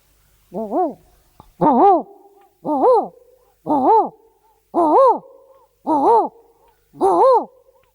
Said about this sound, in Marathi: घुबड जे शिंगारी घुबड आपण म्हणतो आपला सह्याद्रीचा